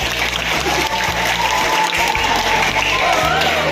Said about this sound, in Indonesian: Tepuk tangan dulu guys.